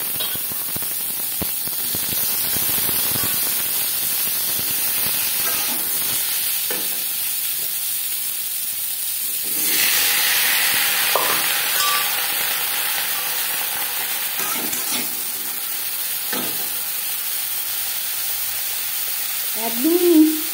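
Raw mango pieces frying in a pan with chili and panch phoron give a steady close sizzle, with occasional stirring scrapes and a brief louder hiss around the middle.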